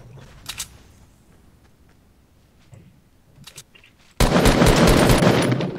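Rapid gunfire in the video game Fortnite: a few faint scattered shots early on, then a loud sustained burst of automatic fire that erupts near the end and continues to the close.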